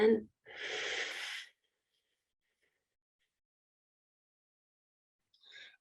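One long, deep breath is drawn in during a guided meditation at a winter solstice ceremony, followed by several seconds of silence and a faint breath at the end.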